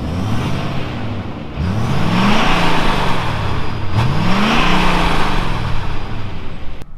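A 6.7 Power Stroke diesel pickup truck engine rumbles steadily, revving up twice in rising sweeps as the vehicle drives, loud and close with road noise.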